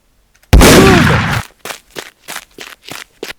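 Shotgun fire in a zombie video game: a loud, close blast with a long decaying roar, followed by five short, evenly spaced cracks or pumping clicks, with no talk.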